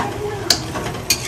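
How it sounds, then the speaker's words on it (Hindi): Masala spice paste for goat curry frying and being stirred in a pan, a loud close sizzle with two sharp scraping strokes of the spoon. "तो ये मैंने अच्छे से मसाला मेरा भून लिया।"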